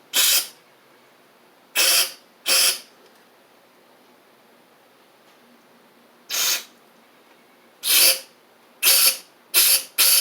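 Short hissing bursts from a carburetor cleaner aerosol can on a Husqvarna Z4822 zero-turn mower, seven sprays in total: one, a pair, then a quick run of four, with quiet gaps between.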